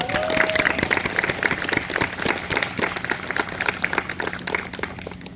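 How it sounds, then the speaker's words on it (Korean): An audience applauds musicians at an outdoor concert at Jeongneung royal tomb in Seoul, steady dense clapping from many hands throughout, fairly loud and close. "저희 연주자 여러분들께 다시 한번 큰 박수 부탁드립니다."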